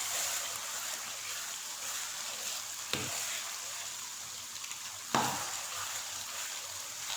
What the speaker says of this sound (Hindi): इसको अच्छे से आप लोग भून लीजिएगा।